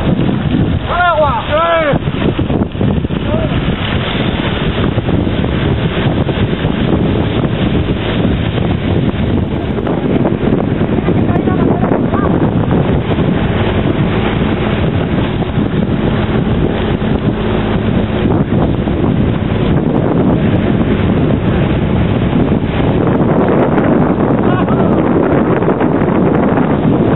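Wind blows at a forest fire in a pine woodland, a loud, unbroken roar with heavy buffeting across the microphone throughout, while people speak over it.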